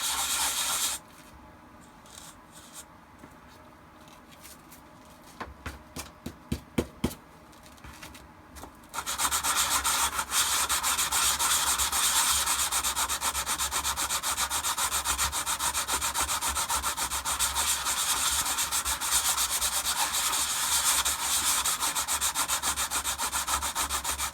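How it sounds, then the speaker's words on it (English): A sanding sponge rubs along the edge of a plastic Shadow Trooper armor piece, first a few short scrapes, then a long, continuous, loud rasping sweep close up. "Let me see if I can get that with the sandpaper here. Sand sponge."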